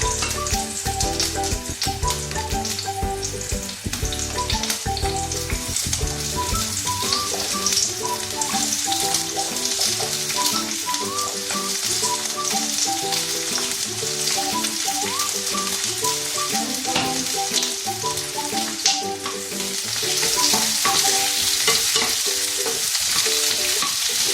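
Ginger and white onion fry in a pan for Japanese beef curry, a loud, steady close-up sizzle with bubbling crackle and occasional stirring scrapes, while quiet background music plays underneath.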